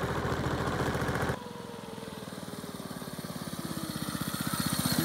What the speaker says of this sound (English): Look at him, he's playing on the mini bike.